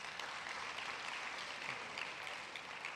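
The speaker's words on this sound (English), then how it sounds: "So let's clap for Nigeria." Steady audience applause fills a conference hall at a women's day event, a dense continuous patter of many hands clapping at moderate distance with no voices over it.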